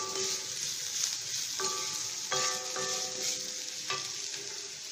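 Ivy gourd (kovakkai) pieces fry steadily in a pan, a dense continuous sizzle with a few sharp clinks of a spatula against the metal, close and fairly loud, no voices.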